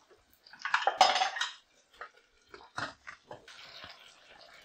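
A lid clanks onto a pot of chicken pieces coated in oil and set on a low flame: a loud metallic clatter, then a few lighter taps and rattles, close by with quiet gaps between them.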